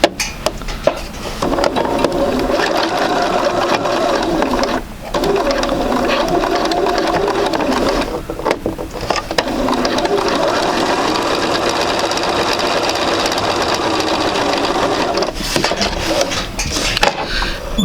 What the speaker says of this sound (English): we're going to sew 1/4 inch through here.